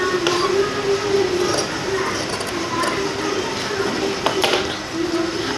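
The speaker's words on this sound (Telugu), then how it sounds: "ఇప్పుడు మేము క్లాత్ మీద పెట్టుకొని స్టిచ్ చేస్తున్నాం." A sewing machine stitches gold cloth for a canvas-cut back design, a close rapid mechanical whirring and clatter that runs continuously with slight variations in pace.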